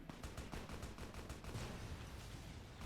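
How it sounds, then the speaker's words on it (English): Explosions and gunfire in the Fallout: New Vegas video game, a dense, continuous barrage of rapid, loud blasts with no pause. "Dang, those are exploding pretty solid."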